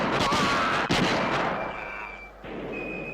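Modern weapons fire in a film battle scene, with loud booming gunshots and dense crackling fire up close, fading into a rumbling tail.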